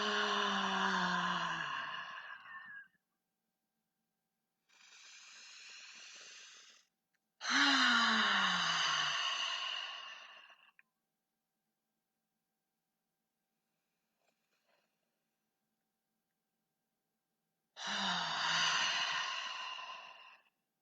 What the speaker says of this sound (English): take 3 nice deep breaths in through the belly. Keep your hands on the belly just to make sure you're really filling it. And then exhale with a nice long ha sound.